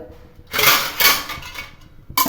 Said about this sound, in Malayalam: ഒന്നിങ്ങനെ പാത്രം വെച്ച് മൂടി കൊടുക്കാം